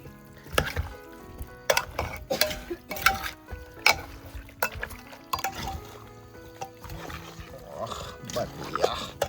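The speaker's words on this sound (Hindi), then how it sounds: "इसे अच्छे से मिक्स करना है अभी ऐसे।" Raw mango chutney ingredients are stirred and mixed in a pressure cooker, giving repeated wet squelching scrapes and knocks against the metal pot. A voice talks over them throughout.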